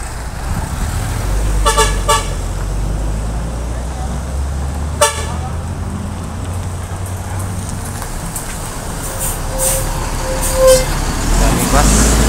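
Busy road traffic with many buses passing, a constant low engine rumble and roar, with several short horn toots early on and a fainter whine near the end; someone talks at times.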